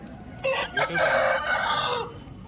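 A fighting rooster at a Sunday rooster market in Vijayawada lets out one long, loud crow close by, rising and then trailing off over a quiet background.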